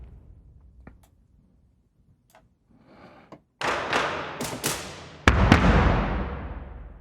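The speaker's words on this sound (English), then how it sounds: "These are the gallery booms." Gallery booms from the Hans Zimmer Percussion sample library by Spitfire Audio, a few soft taps followed by deep, reverberant booming hits that ring out in a large room, with the last one the loudest.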